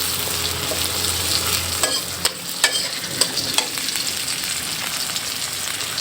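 Onions and green chilies fry in oil while a spoon stirs them gently in the pan, a constant close sizzle punctuated by several light scraping knocks, with no speech.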